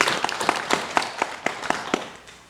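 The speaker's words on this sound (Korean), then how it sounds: "하나님께 영광의 박수 주십니다" Church congregation at an early-morning worship service clapping in unison, a slow steady rhythm of about ten sharp, loud claps roughly every quarter second, fading slightly toward the end.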